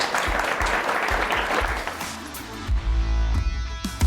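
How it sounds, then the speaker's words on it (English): An audience applauds guests at a business talk with a steady, full round of clapping that fades out as music rises in its place. "So round of applause for our guests"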